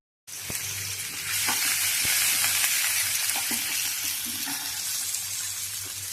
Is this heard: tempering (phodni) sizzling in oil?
yes